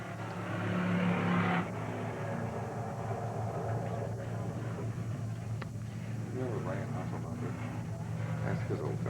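Race car engines roar around the oval at Willamette Speedway, a continuous mid-distance drone with a loud burst early on, while people talk over it.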